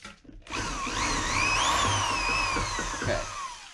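A power drill drilling into a VW Super Beetle ball joint, with a close, loud whine that rises and falls in pitch over about three seconds before cutting off, with no talk.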